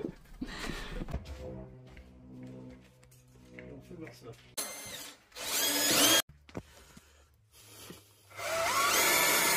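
Power drill boring 8 mm holes to mount a Remcotools bike lift in a workshop: talk first, then two loud, sustained whining bursts of drilling, the second running to the end.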